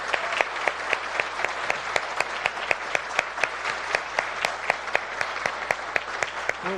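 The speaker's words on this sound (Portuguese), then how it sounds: "eu sei que antecipadamente pedi uma salva de palmas por ser essa mulher." Audience applause for a professor at a postgraduate agroecology lecture, a steady, dense patter of many hands clapping throughout with sharp individual claps standing out, fairly close and without talk.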